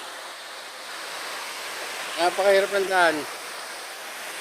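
Steady rushing roar of a waterfall in Zambales, a constant broadband wash heard from a distance, with a person speaking briefly over it partway through.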